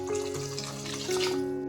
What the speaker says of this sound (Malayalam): 1 ഗ്ലാസ് വെള്ളം കൂടെ ഞാൻ ഇതിലേക്ക് ചേർത്ത് കൊടുക്കുകയാണ്